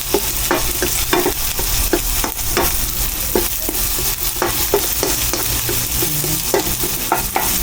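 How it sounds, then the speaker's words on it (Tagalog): Bitter gourd (ampalaya) sizzles in a pan of browned onion and garlic, with a steady loud frying hiss broken by repeated scraping stirs of a utensil. "Kapag okay na yung sibuyas at bawang natin, ilalagyan na natin ang ating ampalaya."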